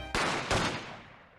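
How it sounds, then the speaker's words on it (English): Two gunshots in The Great Ace Attorney Chronicles, a pair of loud booming blasts about a third of a second apart, their echo fading out after the second. "Oh damn, 2 gunshots."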